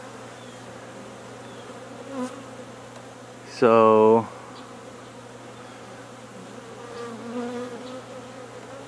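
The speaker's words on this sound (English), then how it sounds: "You can see the bees are already interested on it." Bees buzz around a tree being removed, a steady background hum with a loud, close buzzing pass near the middle and a single brief spoken word.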